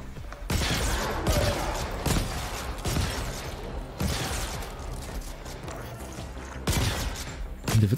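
Gunfire in the video game The Ascent, repeated sharp bursts of shots at irregular intervals, loud and close, each burst followed by a short decaying tail and lighter mechanical clicks between volleys.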